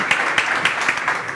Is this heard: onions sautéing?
no